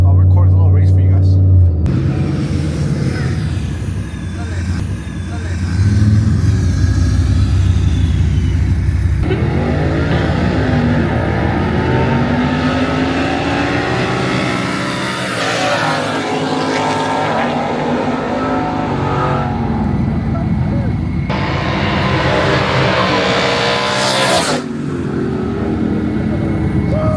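Trucks race at a truck meet. Loud engines roar and rev up, then sweep past in long rising and falling passes, with voices talking over the noise for much of the time.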